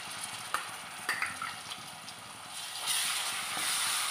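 Crushed ginger, garlic and green chillies frying in oil in a pan, with a close sizzle, a few sharp stirring clacks early on, and the hiss swelling louder toward the end.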